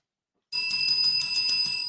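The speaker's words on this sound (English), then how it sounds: "You hitting the bell, boss?" A struck bell rings out in a studio, one bright sustained metallic tone with a sharp onset that carries steadily for about a second and a half, loud and alone with no talk.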